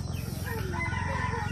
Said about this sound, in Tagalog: Nagising ako sa mga tilawak ng manok.